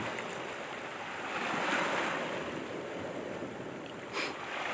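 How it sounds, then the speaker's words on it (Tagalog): Ocean surf washes steadily onto the shore, a broad rushing roar with a swell midway, mixed with some wind noise. "pakinggan nyo po ang napakagandang hampas ng alon sa dalampasigan"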